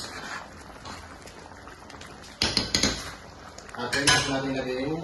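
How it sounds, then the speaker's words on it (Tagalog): A metal utensil stirs a simmering pot of chicken stew cooked in coconut milk with papaya and moringa, quiet scraping at first, then bursts of loud clanks and clatter against the pot. "Pagka medyo kumukulo na po siya, pwede nyo na pong haluin."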